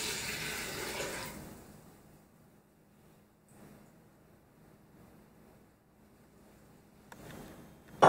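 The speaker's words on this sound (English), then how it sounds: "Now goes the water, 1320 grams." About 1320 grams of water is poured into the bowl of an Ankarsum mixer for a big batch of bagel dough. It makes a loud, rushing splash for about a second at the start, then fades to quiet with faint clinks.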